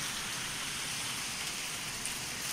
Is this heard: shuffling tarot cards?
no